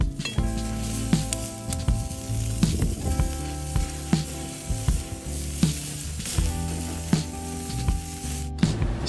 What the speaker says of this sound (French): Donc on va mettre mon maïs en cuisson directe.